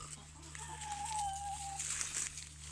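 Chickens cluck and a young bantam rooster calls in a backyard flock, with a drawn-out mid-pitched cry near the start and scattered soft clucks, over steady low hum.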